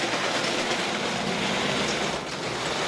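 OO gauge model railway train, an N2 locomotive with an LMS restaurant car, running over troublesome points: a steady, close mechanical rumble and rattle of wheels on track, continuous and without talk.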